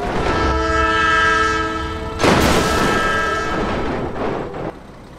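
A loud sustained train horn in a BeamNG video game blares with a steady harmonic tone, cuts off, then a rushing roar of a passing train follows and fades.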